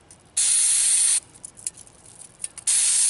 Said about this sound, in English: Why do you use brake cleaner?